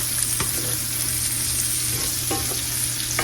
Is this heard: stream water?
no